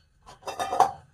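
Brief metallic clinks and scrapes as a tawa griddle pan is handled in a home kitchen, a quick cluster of close clatter lasting about a second.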